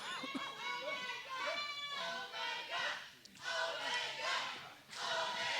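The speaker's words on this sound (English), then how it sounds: "And the crowd chanting for Omega." Spectators at a wrestling show chant and shout in loud, overlapping waves of high-pitched voices, many of them children, with brief dips between bursts.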